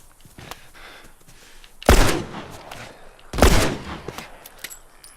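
Gunfire in The Last of Us, two loud sharp shots about a second and a half apart, each with a booming tail, over quieter ambient game sound with a few faint clicks.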